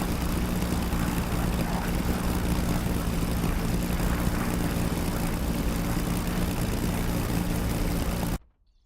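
A propeller aircraft engine drones steadily and loudly in a flight simulator game, holding one even tone before cutting off abruptly at the end.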